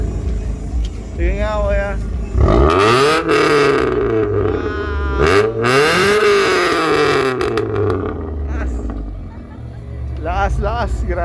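A Mitsubishi Lancer with a 4G92 DOHC MIVEC engine, set up in race-car mode, revs hard in several loud rising and falling bursts close by, with people talking over and between the revs.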